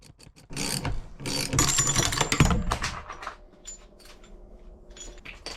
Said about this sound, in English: this is the only way that I have to do it in my shop, is using this three jaw puller